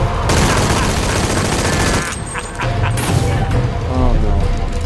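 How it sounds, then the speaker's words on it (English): Sustained gunfire from a firefight in the video game Shadow of the Tomb Raider, dense and loud throughout with heavy low rumble, easing briefly midway before resuming, with a voice talking over it. "That one is machine gun"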